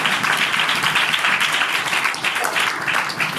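A church congregation claps in steady, sustained applause that fills the whole stretch evenly, loud and close.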